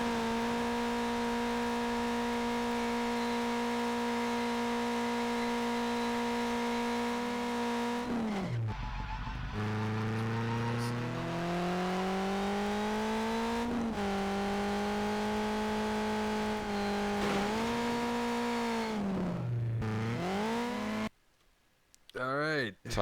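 A game car in High Octane Drift drifts with a steady, droning engine note that rises and falls as it revs and slides, with tire squeal, lasting continuously under people's talk.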